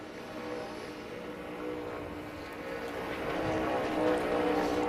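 Ricky Stenhouse's No. 47 NASCAR Cup car runs a practice lap, its engine a steady, distant drone that grows gradually louder as it approaches.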